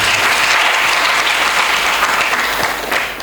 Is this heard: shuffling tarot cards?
no